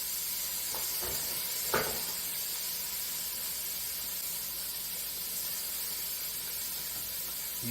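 Garlic sizzling in a pan with caramelized onions, a steady close hiss of frying fat with a few brief clatters early on.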